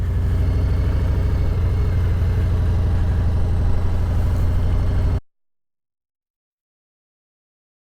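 A motorcycle engine runs close and loud with a steady, even drone while a beginner rider works the clutch to shift down a gear, then cuts off abruptly about five seconds in, leaving silence.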